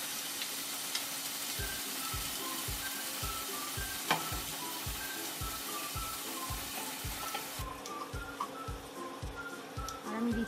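Spice paste for a vegetarian dum aloo sizzles and crackles loudly in hot oil, a dense close frying hiss with a regular, rhythmic scraping of a spoon stirring the pan throughout.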